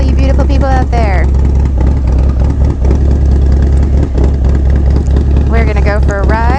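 A Harley-Davidson Breakout motorcycle with a fat rear tire rumbles at a steady idle close by throughout, with someone talking over the deep engine throb.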